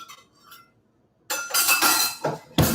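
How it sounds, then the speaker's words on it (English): A glass measuring cup is handled in a kitchen while salt and water are measured out, giving a few bright clinks and knocks with a busy clatter, fairly close, then a sharp final clink. "So I'm gonna use a measuring glass."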